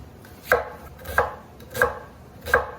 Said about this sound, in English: let's chop up some garlic and a red onion